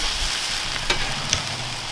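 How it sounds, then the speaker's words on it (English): Hash browns sizzle on a hot griddle as they are flipped, a brief steady frying hiss broken by two quick scraping clicks of the spatula, with no talking. "so now we are going to flip our hash browns"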